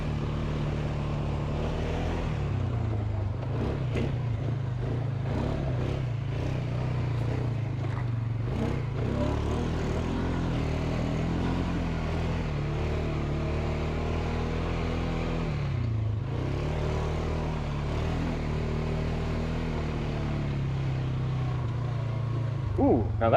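A 2023 Polaris Sportsman 570 ATV rides off-road trails at an ORV park, its engine a steady, close drone that rises and dips gently as it moves along, with no break the whole way.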